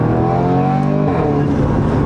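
A straight-piped Audi S3 with its exhaust valves open drones loudly from inside the cabin, a dense steady engine rumble with no talk over it.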